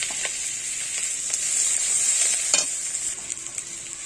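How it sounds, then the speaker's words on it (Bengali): Sliced onions fry in a pan of oil with black cumin seeds, a dried red chilli and bay leaf, giving a strong, continuous close sizzle with brief spatula scrapes and no speech. "পেঁয়াজ ভাজা হয়ে গেছে"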